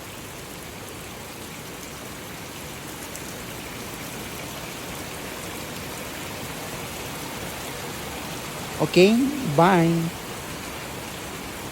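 Heavy rain falls steadily on a nipa hut, a soft even wash of noise throughout, and a person speaks briefly near the end over it.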